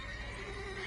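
A horse neighs in the video game The Witcher 3, a single short whinny heard close and clear without any talk.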